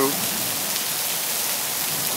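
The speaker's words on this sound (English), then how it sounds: "Good old tropical downpour." A tropical downpour in Singapore pours onto a glass roof, a dense, loud, unbroken hiss of heavy rain heard close with no pauses.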